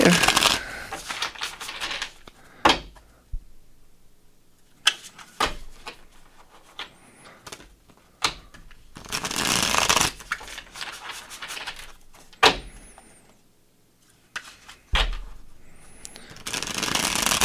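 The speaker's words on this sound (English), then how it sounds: "Get some good shuffles on this deck." A deck of tarot cards is shuffled repeatedly up close, bursts of riffling and sharp snaps separated by quieter pauses.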